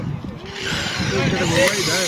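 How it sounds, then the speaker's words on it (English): A big power drill whirs continuously at a church courtyard summer fair, its motor whine and grinding steady and fairly loud, with voices and outdoor bustle mixed underneath. "Big drill."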